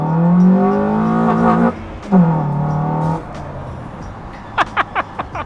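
A car engine revs loudly twice through a cold air intake mounted in the bumper, rising and holding in a droning growl, then drops off; a few sharp popping bursts follow near the end.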